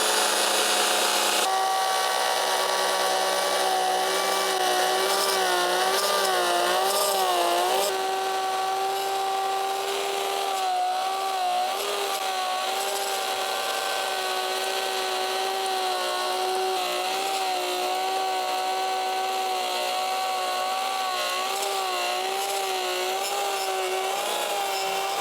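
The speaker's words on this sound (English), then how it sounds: "So we got our window stool bullnose bit here on Tom's Bosch router" A Bosch router fitted with a bullnose bit cuts a profile along a wooden window stool, a loud, steady high whine with a constant tone that shifts slightly as the cut proceeds, heard alone throughout.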